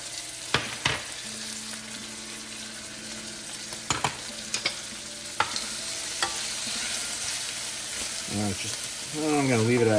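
Habaneros and ginger frying with peppers for coconut curry chicken, a continuous sizzle with sharp utensil clicks and scrapes, and a brief voice near the end.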